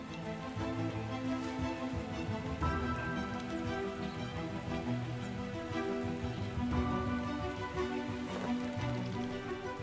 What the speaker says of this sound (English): Meanwhile, down south, the morning rains trickled down.